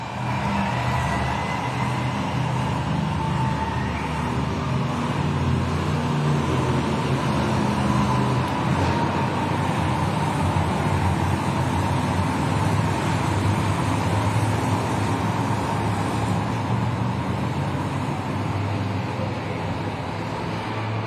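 Monster truck engines at a Monster Jam arena event in Rosemont, Illinois, a sustained heavy rumble and roar, loud and continuous with crowd noise blended in.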